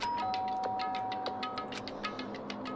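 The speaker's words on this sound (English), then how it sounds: "Byakuya stood in front of her door, not making a sound, and pressed the doorbell." Doorbell chime in the Danganronpa: Trigger Happy Havoc video game, a short electronic ding tone ringing out over a soft ticking background, fairly quiet and alone.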